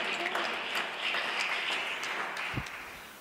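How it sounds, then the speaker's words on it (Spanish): An audience at a lecture conference claps for the interpreters, a moderate, fairly steady patter of many hands that thins out toward the end, with a brief low thump near the close. "Por favor, démosles un aplauso a las intérpretes."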